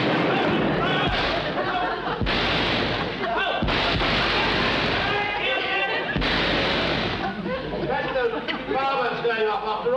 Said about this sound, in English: Fireworks going off after all these years.